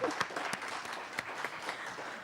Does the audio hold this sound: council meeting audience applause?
yes